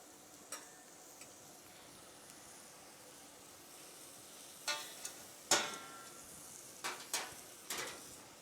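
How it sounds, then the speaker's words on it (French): Sweet potatoes frying in a pan, a faint low sizzle with scattered sharp pops and spatters that grow more frequent toward the end, heard close with no talking. "Alors vous voyez là, ça commence à frire."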